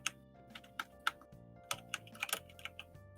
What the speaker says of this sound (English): I can tell by your typing.